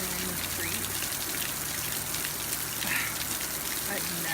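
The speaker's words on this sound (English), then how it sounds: "It is pouring, and it's cooler in the street." Heavy rain pouring down on a street, a dense, steady wash of hiss and patter that stays loud and unbroken throughout.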